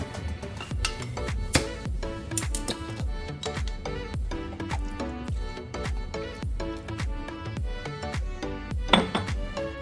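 Metal spoon clinking and scraping against a glass while stirring a michelada of beer, tomato, salt and pepper, quick rhythmic chinks close up and fairly loud, with no talking.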